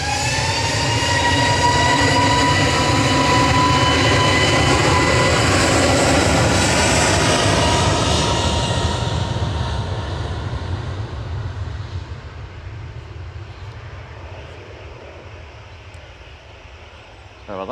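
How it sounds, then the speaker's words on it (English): EasyJet Airbus A321neo departing Manchester for Reykjavik: a loud, rising take-off roar with whining engine tones that peaks early, then fades steadily as the jet climbs away. "Departing next, though, lined up and ready to go, is EasyJet 2259 to Reykjavik"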